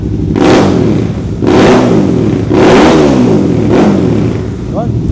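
A Suzuki V-Strom 650 fitted with a GPR exhaust revs hard and close in four rising and falling bursts, each throttle blip swelling loudly before dropping back toward idle.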